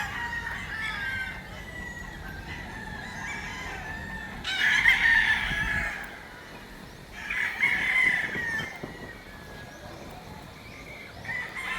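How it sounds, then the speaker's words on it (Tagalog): Roosters crow at a gamefowl farm set inside a mansion in Bacolod City, with two loud crows standing out over a steady background of clucking fowl and farm noise. "na-tour ko na kayo dito sa Manukan na nasa loob ng mansyon ni Sir Nene Abelio."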